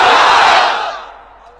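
A large crowd at an outdoor Islamic sermon gathering roars a takbir together, one loud unified shout that swells at once and then fades away over about a second.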